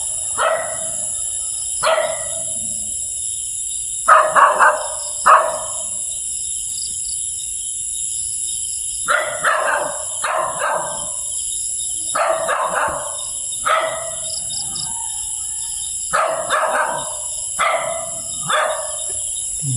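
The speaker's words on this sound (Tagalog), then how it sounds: "Aso." Dogs bark in repeated short bursts and clusters, some loud and close, over a constant high drone of chirping insects.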